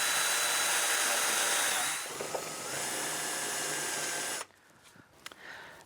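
A loud, steady whine of a power drill with a 5.5 mm bit drilling through a center-punched hole runs for several seconds, then cuts off abruptly, leaving quiet handling noises.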